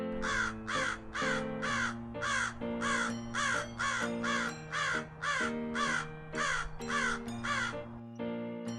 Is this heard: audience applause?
no